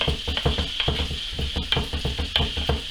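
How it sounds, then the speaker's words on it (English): Onions sizzle in a frying pan during venison meatball cooking, a continuous close hiss with rapid rhythmic stirring or scraping taps throughout; no talking. "You can hear my onions going there"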